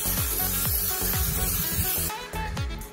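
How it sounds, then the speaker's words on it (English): Short bursts of Pam cooking spray hiss close by onto stuffed chicken breasts, several quick pumps in a row with brief gaps between them. "Spray the tops with some Pam spray or drizzle it with some oil."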